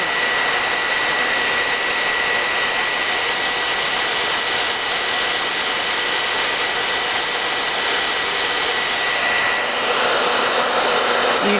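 Heat tool blowing hot air onto vinyl being pressed and sealed onto rough unsealed wood, a steady loud broadband whoosh running without a break for the whole stretch.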